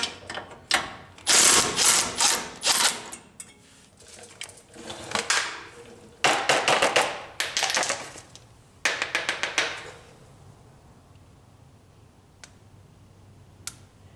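A socket wrench loosens disc brake bolts in loud bursts of rapid ratcheting clicks, three runs of a few seconds each, followed by near silence with one stray click.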